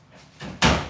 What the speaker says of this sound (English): Just shut that door, James.